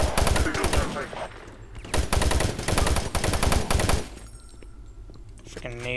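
Rapid machine-gun fire in the video game Doom 3, dense repeated bursts that run nearly continuously and loud, pausing briefly before trailing off into a rising electronic tone.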